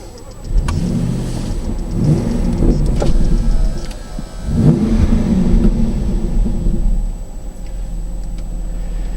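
A Jaguar F-Type sports car with a Miltech exhaust starts up close by, with a starter whirr followed by deep engine rumbles that swell in two rises and then settle into a steady idle.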